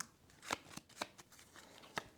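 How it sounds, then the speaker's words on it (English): A deck of playing cards is shuffled in the card game Deck Rogue, with a quick run of crisp riffling flutters and snaps at irregular intervals, quiet and close, with no talking. "He's shuffling all my cards again."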